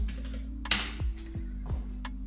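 Typing on a computer keyboard connected through a USB hub to an Apple Mac Mini M4, a few sharp separate key clicks spaced over two seconds, close and clear above a faint steady electrical hum.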